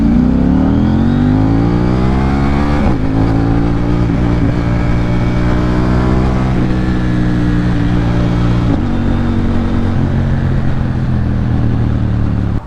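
A KTM Duke 790 motorcycle with an Akrapovic exhaust revs hard and close, its loud engine tone climbing and dropping through several long pulls toward the 10,000 rpm redline, with no talk over it.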